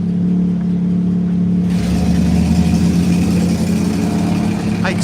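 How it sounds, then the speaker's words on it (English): A BMW car engine runs at a steady mid-pitched drone, then revs up and holds a louder, brighter roar, heard close and continuous with no talk. "I expected this BMW to make a different sound than what it is."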